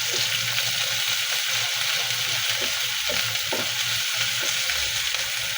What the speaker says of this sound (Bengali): এখন এটাকে হালকা একটু ভেজে নেব তেলের সাথে